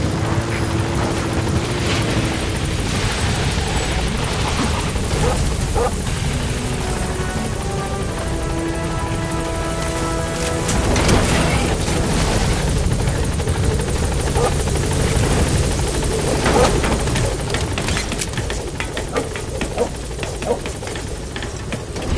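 In Metal Gear Solid V, the helicopter Pequot hovers and lands at a landing zone with a loud, steady rotor thrum and whine. Radio-style voices speak over it.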